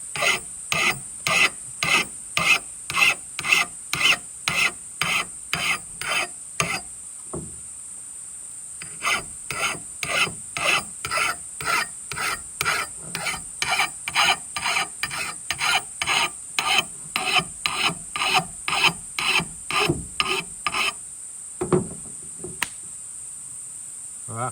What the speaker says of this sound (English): I'll go through, still on the bastard file